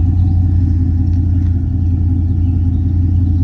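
The engine of a 2005 Corvette C6 rumbles low and steady while driving, a deep continuous drone with a light clatter on top and nobody talking.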